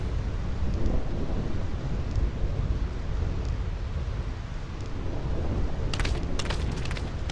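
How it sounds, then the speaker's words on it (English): A thunderstorm in the game Final Fantasy X: a continuous low roar of wind and rain rumbling steadily throughout, with a few sharp crackling bursts near the end. "This storm never stops."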